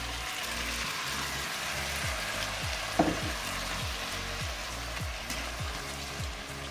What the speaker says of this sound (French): Donc là, nos oignons commencent à être bien revenus. C'est le moment d'y rajouter les tomates.